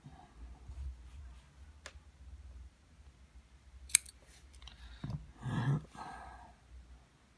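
Scissors snip through cotton wick for a vape rebuildable tank atomizer, a few quiet close crisp cuts with light clicks between faint pauses.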